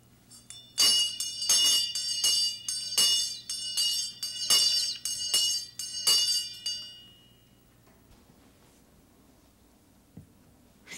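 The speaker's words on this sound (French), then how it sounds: "La grosse cloche." A large bell struck several times in a steady, ringing series, each stroke bright and resonant with a lingering hum, before the ringing stops and near-silence follows.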